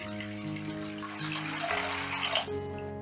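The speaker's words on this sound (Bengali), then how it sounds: "আমি একটা স্টিলের গামলা নিয়ে নিয়েছি আর গামলার মধ্যে বেশ খানিকটা জল দিয়ে দিচ্ছি।" Water pouring into a steel bowl, a close, steady gushing splash whose pitch rises as the bowl fills, continuous and alone without talk.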